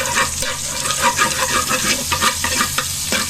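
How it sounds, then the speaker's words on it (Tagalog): Garlic sautéing in a hot pan, a loud continuous crackling sizzle with bursts of spatula scraping and stirring up close. "Gisa na tayo ng bawang."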